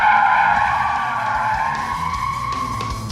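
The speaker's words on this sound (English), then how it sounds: "Taking it through some witches hats here, 20 metres apart, really throwing this car around" A Holden car skids and squeals its tyres while being thrown through a slalom of witches hats set 20 metres apart at speed, a loud continuous tyre howl with engine note underneath, close to the microphone.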